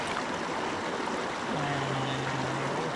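Creek water flows with a steady, broad rushing wash that fills the scene evenly from start to finish, with a faint low drone entering partway through, heard on a solo backpacking trip.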